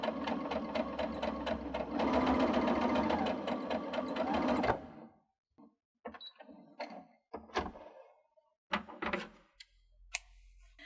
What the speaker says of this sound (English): now I'm going to do a straight stitch right down that line